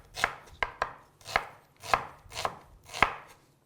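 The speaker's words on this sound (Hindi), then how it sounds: "प्याज को हम रफली चॉप कर लेंगे।" An onion being roughly chopped with a knife on a board in a home kitchen: seven crisp, evenly spaced chops, close and distinct, with no talking.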